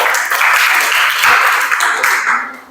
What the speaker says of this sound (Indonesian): silakan beri tepuk tangan ke kelompok